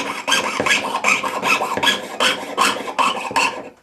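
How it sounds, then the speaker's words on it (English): Steady rasping strokes of a jeweller's saw biting through metal, about a dozen rhythmic up-and-down cuts, close and fairly loud with no talking. "only ever turn the piece if the saw is moving up and down"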